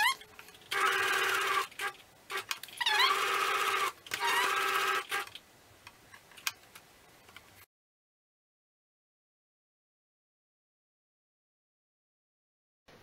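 A sewing machine stitches a parasol cover in short, rapid mechanical bursts separated by brief pauses and clicks, close and clear, before falling silent for the rest.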